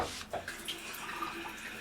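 Water runs from an outdoor spigot, a steady splashing flow that holds evenly throughout at moderate level, with no talking.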